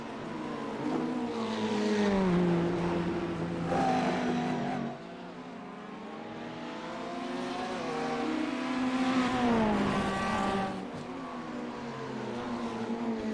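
Race car engines in iRacing at Bathurst, including a BMW, rev high and shift through gears, the pitch climbing and dropping in two long pulls, loud and close with a faint commentator voice underneath.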